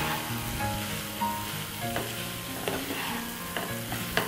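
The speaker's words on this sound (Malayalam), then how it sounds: "ചോറിനെ ഒന്ന് വറുത്തെടുക്കാം" Cooked rice stir-fried in a pan for mixed fried rice, a soft, continuous sizzle with periodic sharp clacks of a utensil against the pan, close and unaccompanied by voices.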